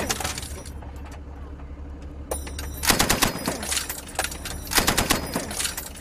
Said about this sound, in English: the Pathfinders insisted I learned how to use the commander's machine gun